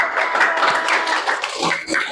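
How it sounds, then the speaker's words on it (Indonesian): Brief clapping from a group of students in a classroom, a dense patter of hand claps lasting about two seconds at moderate loudness. "Udah, ya, tepuk tangan."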